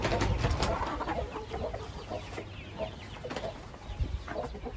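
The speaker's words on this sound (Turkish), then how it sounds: "bizim kel horozumuzun kız kardeşi, yumurtluyor burada." Black Indian game hen of the Aseel breed clucks in a poultry yard where she lays eggs, giving soft, fairly close, irregular clucks over a steady background hum.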